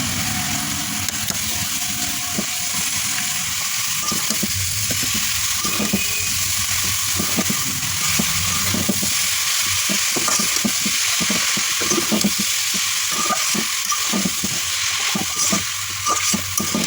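Mashed potato with chopped telakucha greens frying in a pan, a loud continuous sizzle with steady rapid spatula stirring and scraping throughout, close to the listener.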